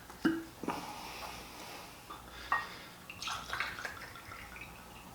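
Bourbon, including Smoke Wagon, pours into a glass in short splashy bursts, with a few clinks and drips between pours, close and fairly quiet.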